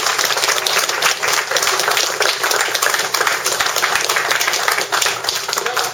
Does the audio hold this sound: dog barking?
no